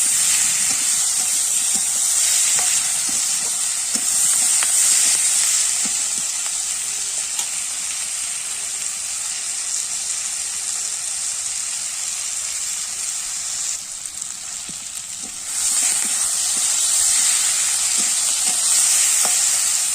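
Telakucha greens stirred and sautéed with salt in a hot pan give off a steady, loud frying sizzle and hiss, with occasional soft scrapes of stirring and a brief dip in the middle.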